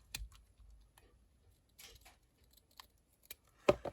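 Paper trimmed by hand with scissors for a lapbook project: a series of crisp, close snips and paper rustles with short pauses, ending in a louder cut, and no talk.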